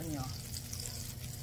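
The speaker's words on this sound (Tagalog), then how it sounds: "Tunawin nyo ang butter at saka olive oil" Butter and olive oil melt in a pan for garlic butter shrimp spaghetti, making a steady, moderate sizzle and crackle under a briefly audible voice.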